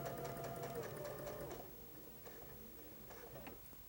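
A sewing machine stitching quilt pieces for a star-pattern quilt runs in a fast, steady whir with ticking needle strokes, loud and close for over a second, then slows to quieter, intermittent stitching.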